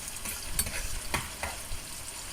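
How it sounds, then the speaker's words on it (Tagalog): Tomatoes and tiny shrimp (alamang) sizzle in plenty of oil as a spatula stirs them, with a steady crackle broken by a few sharper scraping strokes, close and moderately loud. "Kailangan mo lang siyang galaw-galawin para yung maluluto talaga yung kamatis niyan"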